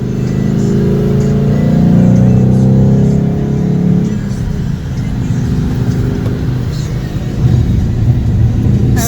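A car engine revs and accelerates on the road, a loud, close, continuous low rumble that swells, eases off, then builds again, with road noise underneath.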